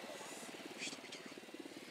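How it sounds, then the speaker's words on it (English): A drone flies in the video game Ghost Recon, giving a steady, droning, rotor-like buzz with a slight wavering pulse that stays at even loudness for the whole stretch. "Drone flying."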